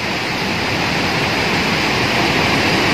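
River water rushes past a bridge that has collapsed after a lahar flood on the Malang–Lumajang road, making a loud, dense, unbroken roar with no pauses.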